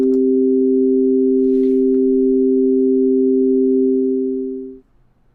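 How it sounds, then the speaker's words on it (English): Two steady sine-like tones sounding together as an equal tempered fifth, held evenly and loud for about five seconds before cutting off into near silence. "Now let's listen to an equal tempered fifth, the same two intervals."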